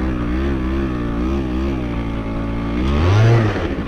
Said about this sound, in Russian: Я надеюсь, вы слышали, да, насколько Дио успела раскрутить двигатель